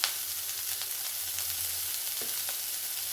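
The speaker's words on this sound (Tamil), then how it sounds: "வெங்காயம் வதங்கிடுச்சு நம்ம கொஞ்சம் சீரகம் போட்டுக்கலாம்" Chopped onion and cumin seeds fry in oil in a pan for peanut chutney, a steady close sizzle running throughout with a few brief stirring scrapes and no talk.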